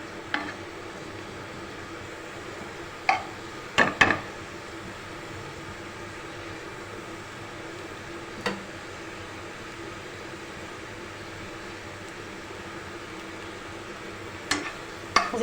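Spring onions soften in mustard oil in a pan for an aloo and hare pyaz sabzi, giving a faint, steady sizzle throughout, broken by a few sharp utensil clicks against the pan.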